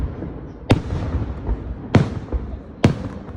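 Fireworks bursting outdoors: three sharp, loud bangs at irregular intervals, each followed by a short crackling tail over a low rumbling background, with no talking.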